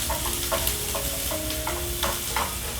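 Onions sizzling in hot oil in a pan, a steady crackling fry with light clinks of a utensil, close and moderately loud, no voices.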